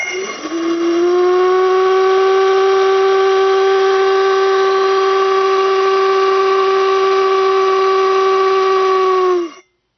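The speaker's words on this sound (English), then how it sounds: "here's a better version of the propane cylinder steam whistle" A homemade steam whistle made from a propane cylinder, blown with compressed air at about 20 psi, gives one long, loud, steady tone, rich and piercing, sustained for about nine seconds before cutting off.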